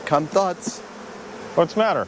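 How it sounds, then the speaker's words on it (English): A dense swarm of thousands of bees buzzes steadily in the background while a person speaks briefly twice over it. "There have to be thousands of bees on there right now."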